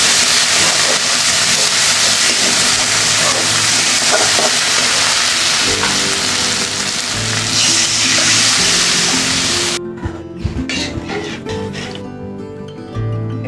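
Water poured onto fried, well-cooked spice paste for a potato and pointed gourd curry, giving a loud, dense sizzle and hiss that runs steadily, then drops sharply into quieter bubbling and spitting near the end.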